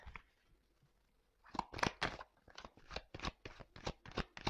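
Tarot cards shuffled during a Gemini reading, a quiet start then a close run of brisk riffling and tapping bursts in uneven rhythm, with no voices.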